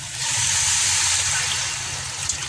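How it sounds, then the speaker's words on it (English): Water poured into a pot of pilau chicken rice, a steady close rushing pour that swells quickly and holds, then tapers slightly toward the end, with no talking. "we're going to go ahead and add our water"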